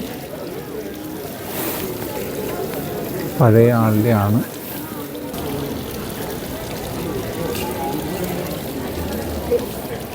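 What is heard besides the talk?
water falling from fountains near Frankfurt Cathedral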